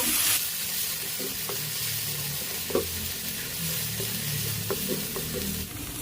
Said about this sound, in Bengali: এবার মশলাটাকে আমি ভালো করে কষিয়ে নেব।